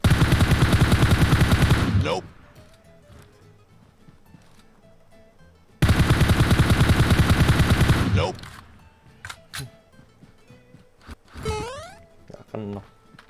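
Two long bursts of rapid automatic gunfire from PUBG Mobile rattle out loud and close, with a quiet gap between them. Scattered shots, thuds and short sweeping effects follow the second burst, and a player talks during the clip.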